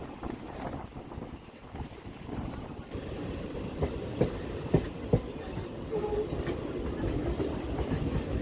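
A Bardhaman–Katwa local train runs on rails with a steady close rumble, a few sharp rail clacks and knocks midway, and the roar building louder toward the end. No one speaks.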